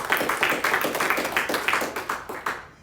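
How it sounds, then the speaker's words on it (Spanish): A church congregation claps for the Lord during a sermon on the consequences of sin, a roomful of hands beating in a fairly regular rhythm of distinct pulses before trailing off. "Dele un aplauso al Señor."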